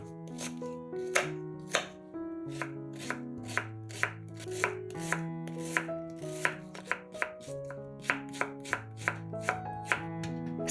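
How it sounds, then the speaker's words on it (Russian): A knife chops onions into cubes on a board, giving a steady run of crisp, evenly spaced taps up close over soft background music. "1-2 луковицы нарезаем кубиками."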